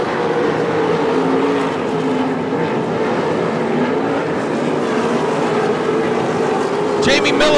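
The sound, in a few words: 305 sprint cars racing at Attica Raceway Park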